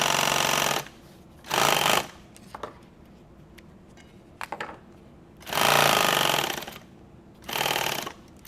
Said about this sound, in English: Now the bobbin's winding without having to address it or deal with it.